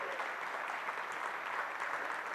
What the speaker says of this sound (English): let me just ask for a big applaud to Valbona